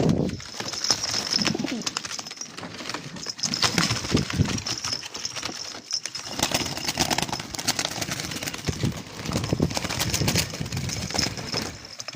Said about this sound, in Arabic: بس طير حمام